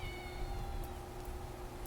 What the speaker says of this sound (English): Did you hear that? Little meow.